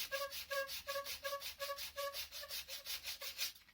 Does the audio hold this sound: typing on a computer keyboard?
no